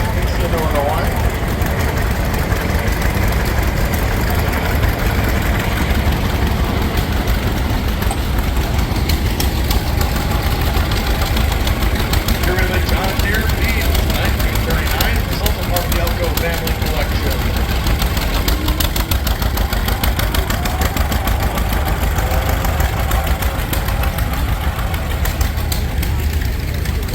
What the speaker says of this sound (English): Here we have a 1939 John Deere G.